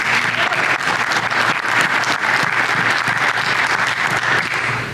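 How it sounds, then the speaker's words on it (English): Conference audience at Controls-Con 2025 applauding in a room, a steady full round of clapping from many hands that tapers slightly at the end. "please a nice round of applause"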